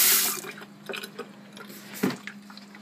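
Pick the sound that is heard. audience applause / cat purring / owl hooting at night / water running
water running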